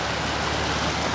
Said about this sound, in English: For weeks now, this region of Ecuador had torrential rain, and we're now right in the thick of it.